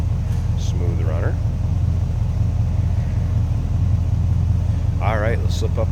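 A 1946 Ford Deluxe Coupe street rod runs steadily at idle, a deep, smooth engine rumble filling the clip from start to finish, with brief bits of a voice near the beginning and end.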